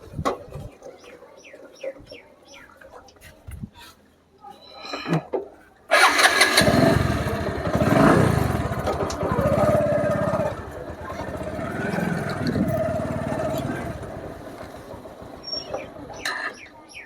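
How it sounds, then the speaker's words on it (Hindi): A motorcycle starts with a sudden loud catch after a few quiet clicks and shuffles, then settles into a steady, close idle that carries on for over ten seconds, with faint birdsong in the background. "एखन बाइक निकलाएगा हमें"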